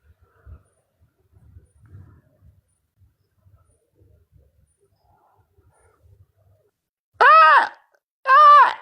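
A person imitates a camel snoring with two loud, harsh, drawn-out groaning snores near the end, after quiet low rumbles and near silence.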